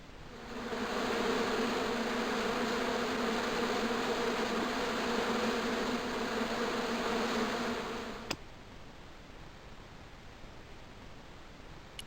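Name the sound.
hornets buzzing angrily in a bush, from a video game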